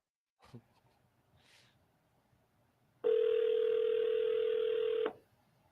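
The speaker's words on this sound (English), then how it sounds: "Pick up the phone and start dialing" A steady telephone tone sounds for about two seconds, clear and close, after a quiet stretch holding a few faint clicks and handling noises, heard while dialing a cold call.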